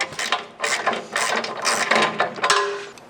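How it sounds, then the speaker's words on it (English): A ratchet fitted with a 10mm socket backing out the screws that hold the fog light bezel on a Jeep JL Wrangler steel front bumper, giving close, loud bursts of rapid clicking in several quick strokes. "we're going to use a 10mm socket to remove the screws that are holding in the fog light bezels."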